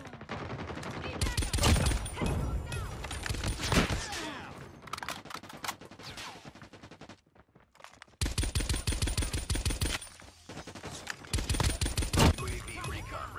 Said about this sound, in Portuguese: Ela atira muito rápido.